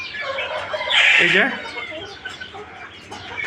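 Newly bought silkie chickens and broiler chicks cluck and squawk close by, with one louder burst of calls in the middle, while someone speaks briefly.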